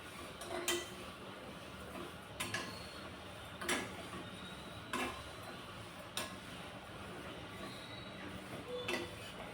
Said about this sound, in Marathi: मस्त असं हलवून हलवून आपण चिवड्याला भाजून घेऊया